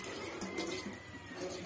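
Water running from a newly installed kitchen faucet, a faint steady stream splashing softly in a quiet room.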